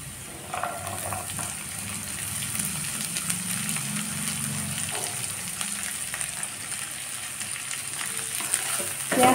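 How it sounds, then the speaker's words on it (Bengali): Chopped onions and cumin seeds frying in a pan, a continuous close sizzle with soft stirring scrapes and no voices. "পেঁয়াজটা ভালো করে ভেজে নেব।"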